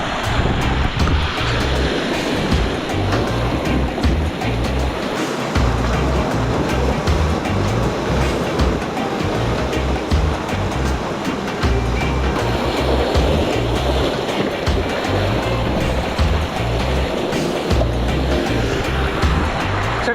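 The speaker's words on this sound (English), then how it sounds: "Water comes gushing in here, it fills up, and then it runs back down to the ocean." Caribbean ocean water gushes and churns into a small waterfall pool at a beach, a continuous loud rushing wash with surging waves and wind buffeting the microphone.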